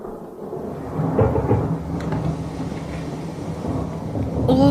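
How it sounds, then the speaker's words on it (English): A thunderstorm with heavy rain beating down on an old house, a loud steady downpour with a deep rolling rumble of thunder swelling through it, close and continuous. "All night the rain beat down upon the old house and the thunder roared."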